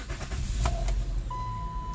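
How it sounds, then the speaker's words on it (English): A Saturn car with an automatic transaxle, just topped up with transmission fluid and additive, starts up: a short low engine rumble and chime tone, then a steady electronic beep tone holding over the idle. "start the car."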